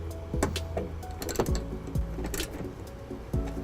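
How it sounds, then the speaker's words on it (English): 10mm socket ratchet tightening a trailer wiring ground wire to the body of a 2010 Nissan Rogue, a series of quiet, close clicking strokes with irregular spacing over a faint background hum. "we'll tighten it up with our 10mm socket."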